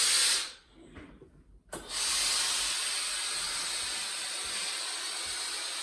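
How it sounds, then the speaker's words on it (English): A clothes iron releases steam in a loud, sustained hiss, which drops out briefly near the start and then returns and holds steady and close. "I'm hearing the steam"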